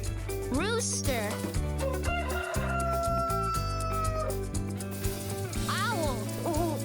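Rooster crowing in a children's animal-sounds nursery rhyme, a couple of rising cock-a-doodle-doo calls near the start and end set against loud, steady backing music with a voice naming the bird.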